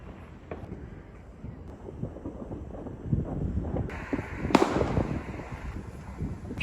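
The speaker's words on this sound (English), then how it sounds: "Wow guys, look at these fireworks." Fireworks go off outdoors during a night walk, heard as distant rumbling bangs and crackles under steady wind buffeting the microphone, growing busier and louder toward the end.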